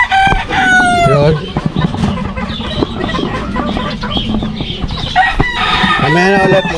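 Chickens and roosters at feeding time, with loud nearby crowing at the start and end over continuous clucking from the flock.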